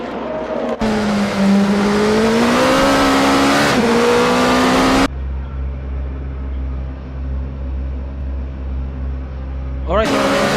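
In a sim racing game, a race car at Motegi enters the pit lane. The engine revs loudly with rising and falling pitch, then drops to a lower, steadier limiter drone before a final rev, under a commentator's voice.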